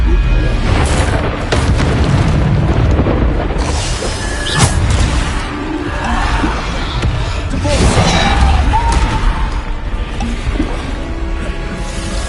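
The Bombarda spell explodes in the wizarding game Hogwarts Legacy with loud, booming blasts and crashing impacts amid constant dense battle noise, with voices heard between the explosions.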